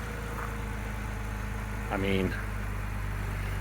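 An Audi S5 engine idles steadily after its first cold start of spring, a low, even hum with a brief flare in pitch partway through and someone talking over it.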